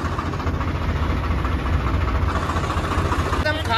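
A Swaraj 744 tractor engine idling, a steady low diesel rumble that runs throughout at close range.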